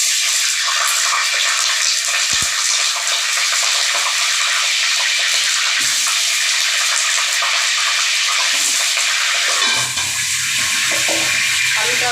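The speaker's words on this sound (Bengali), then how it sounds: "আমি এখানে আলু ভাজা বসিয়ে দিয়েছি অলরেডি।" Peeled potatoes fry in hot oil, a loud continuous hiss and crackle that stays steady throughout, with a low hum joining near the end. Nobody speaks.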